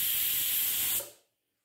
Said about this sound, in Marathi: आता कुकरचं झाकण लावून मीडियम फ्लेमवरती 3 शिट्ट्या होईपर्यंत शिजवूया